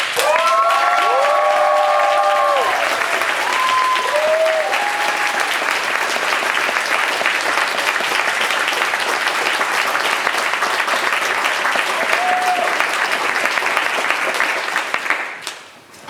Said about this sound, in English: Can we please give everyone a round of applause?